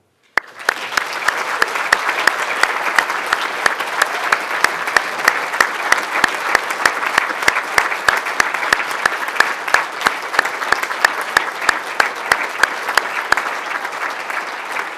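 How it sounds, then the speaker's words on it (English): Family and friends at a University of Liverpool School of Dentistry graduation ceremony applaud the graduates, loud sustained hall-filling clapping that starts abruptly and continues with crisp individual claps standing out. "So I invite your family and friends to applaud you for your achievements."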